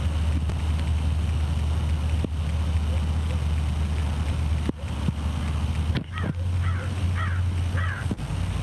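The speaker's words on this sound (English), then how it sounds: "Crow, but I don't see it." Crows caw outdoors in a few short harsh calls near the end, over a steady low hum and wind rumble, with a few sharp knocks.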